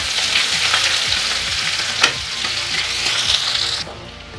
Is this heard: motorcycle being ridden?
no